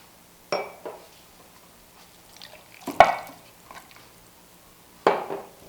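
Chicken pieces go into a pot of mixed spices for Hyderabadi dum biryani, giving a few scattered wet clinks and soft knocks of metal utensils against the pot, close and fairly quiet with gaps between them.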